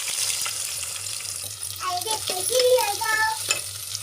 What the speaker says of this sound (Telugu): ఇప్పుడు ఆనియన్స్ వేసేయాలి.